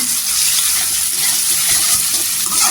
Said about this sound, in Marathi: तेलावर परतून घ्यायचं। इथे तेलावर परतल्यावर अद्रक, लसूण आणि हिरवी मिरची असं ठेचून घेतलेला आहे।